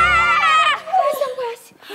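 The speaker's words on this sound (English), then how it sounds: "If you see a jellyfish, don't forget to scream." Children give a high, wavering scream in a nursery rhyme song about rowing a boat down a stream, followed by a brief sung or spoken phrase, all close and loud.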